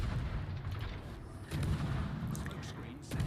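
Naval guns firing in World of Warships, heavy booming salvos rolling over a low rumbling battle backdrop, with a sharp thump near the middle and distant crackles.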